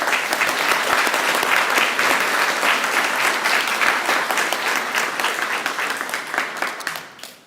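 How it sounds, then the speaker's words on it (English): An audience at a luncheon event applauds sponsors and co-hosts: sustained, dense crowd clapping filling the room, steady for several seconds before tapering off at the end. "let me just say a round of applause for all of our sponsors and our co-hosts"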